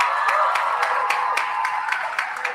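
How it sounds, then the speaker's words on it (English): Applause for a graduating class at a graduation ceremony, a crowd clapping in a steady, moderately loud patter with scattered sharper claps. "Let's give them a round of applause."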